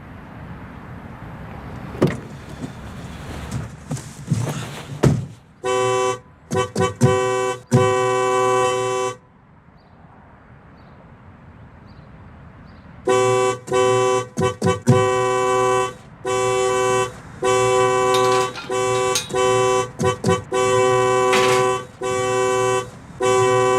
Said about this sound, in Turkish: ne basıp duruyorsun kornaya?